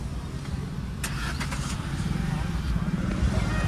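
A road jammed with cars, engines idling and rumbling nearby, a brief rattle and clatter early on, with someone talking over the steady traffic noise.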